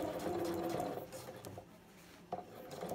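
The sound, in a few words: sewing machine sewing basting stitch on invisible zipper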